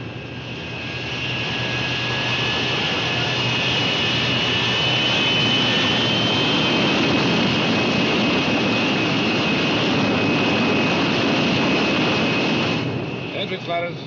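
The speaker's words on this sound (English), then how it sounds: "Starting jets." The jet engines of a B-36 Peacemaker bomber start up and settle into a loud, steady roar that holds for several seconds before easing slightly at the end.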